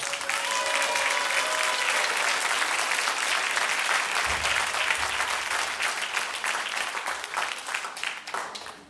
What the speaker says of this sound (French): 2 présentations, 2 fois d'applaudissements